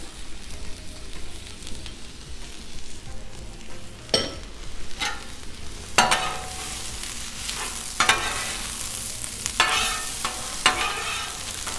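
Red pepper and onion fry on a Blackstone griddle, a steady sizzle broken by several loud spatula scrapes and stirs, close up with no talking.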